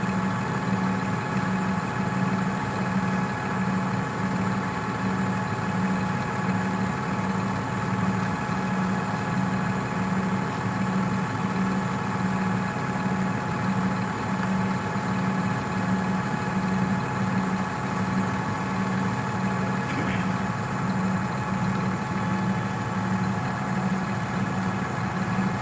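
A demo tractor engine idles steadily during hay baling, a continuous low mechanical drone with a constant hum and no pauses, close and moderately loud throughout with no talking.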